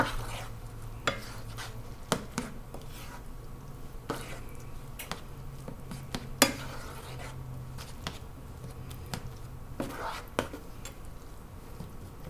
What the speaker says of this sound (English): So the black beans are cooking